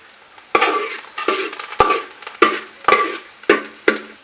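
Onion, green chili and curry leaves tipped into a hot frying pan for a pork fry, giving a series of loud sizzling bursts with sharp clatters of a spoon against the pan, roughly every half second, with no talk.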